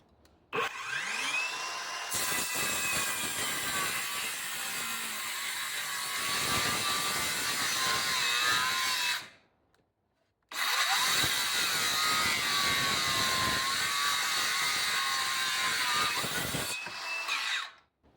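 An electric saw fitted with a Dnipro-M ULTRA 165 mm blade whines loudly as it cuts through wood in two long passes, separated by a brief silent pause, with no talking.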